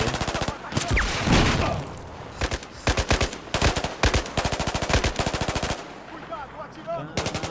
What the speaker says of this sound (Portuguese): Cuidado, atirando!